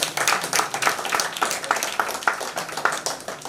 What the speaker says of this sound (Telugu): అంత చప్పట్లు కూడా వాళ్ళకు గట్టిగా